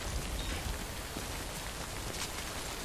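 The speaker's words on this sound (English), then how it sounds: "We wait out the rain over there." Steady rain pours down in Death Stranding, a dense, even hiss of drops striking surfaces, continuous and fairly close for the whole stretch with no voices over it.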